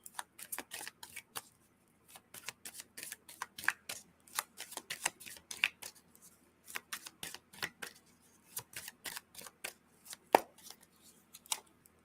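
Tarot cards are shuffled by hand in quick, irregular bursts of crisp riffling and slapping, close and quiet over about twelve seconds, with no voices.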